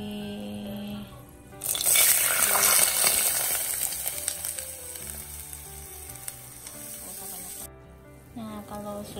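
Water poured into a hot pan of fragrant aromatics for biryani sets off a loud, sustained sizzle and bubbling hiss that fades after several seconds, with a quieter simmer before and after.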